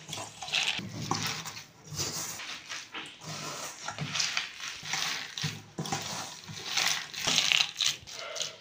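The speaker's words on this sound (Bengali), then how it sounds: "এবার আমি হাত দিয়ে মাখিয়ে নেব ভালো করে।" Wet squishing and squelching of thick cabbage pakora batter with rice flour being mixed by hand, in uneven repeated pulses.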